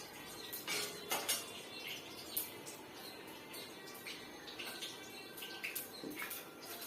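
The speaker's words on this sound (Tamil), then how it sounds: "கடுகு பொரிஞ்சிச்சு" Mustard seeds splutter and pop in hot peanut oil in a pan as the first step of a cabbage coconut curry, making scattered, faint crackles and small pops over a low sizzle.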